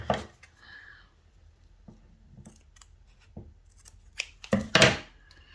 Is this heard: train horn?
no